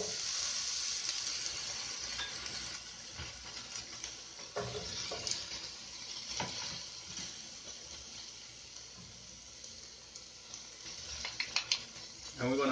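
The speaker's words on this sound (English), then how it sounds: "now it's time to add in the chickpeas, the tomatoes, and the thyme" Chickpeas, tomatoes and thyme stirred into a hot pan for a Greek spaghetti squash toss, with a soft steady sizzle, quiet scraping and a few clinks of a utensil against the pan toward the end.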